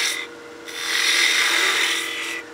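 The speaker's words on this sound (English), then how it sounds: "I'll use the spindle gouge to remove some of the bulk here" A spindle gouge cuts into wood spinning on a lathe while turning a baby rattle, giving a steady close scraping hiss that swells and then holds for a couple of seconds, with no voices.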